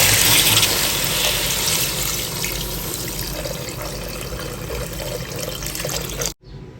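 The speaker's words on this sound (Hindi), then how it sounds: "और 3 कप में इसमें पानी ऐड करूँगा" Water from a tap gushes steadily and loudly into a pot of mutton pulao with soaked rice, then cuts off abruptly near the end.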